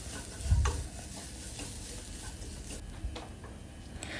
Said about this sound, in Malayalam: എന്നിട്ട് നന്നായിട്ട് മസാല മൂപ്പിച്ചെടുക്കുക.